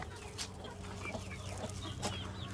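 Hens in a mixed backyard flock, where young roosters are stirring things up, give soft scattered clucks and short calls, faint and fairly distant, for a couple of seconds.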